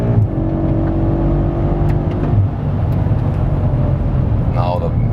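A 2019 BMW M5 G30 engine runs loud and steady at high revs while driving, with a droning tone throughout and someone talking over it.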